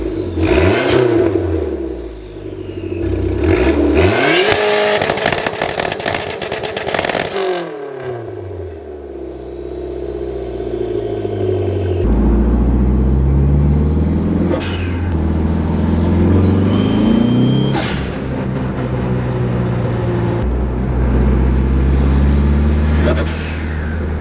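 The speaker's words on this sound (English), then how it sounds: "It makes every single turbo noise in the book." A turbocharged Dodge SRT4 engine revs repeatedly, loud and close, with rising and falling sweeps, turbo whine and whooshing blow-off bursts between the revs.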